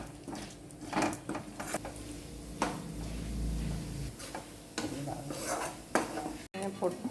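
Roasted gram frying in ghee in a pan, stirred with a metal utensil, giving repeated scraping clinks and soft sizzling; a voice talks over parts of it.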